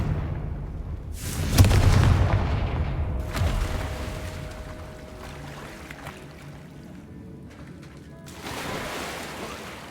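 A Confringo fire spell in Hogwarts Legacy, a loud blast that booms and then rumbles away into a long fading tail with quieter effects after.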